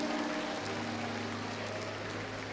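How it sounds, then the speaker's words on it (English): A congregation applauds during a church Christmas cantata, a soft, continuous wash of many hands clapping under a low steady hum, with no voices rising above it. "give them a hand right now. Clap for them."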